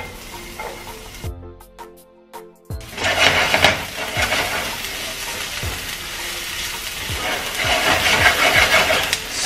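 Chopped onion hits a tablespoon of hot oil in a pan and sizzles steadily, the frying rising loud and close with occasional stirring scrapes after a brief quieter moment.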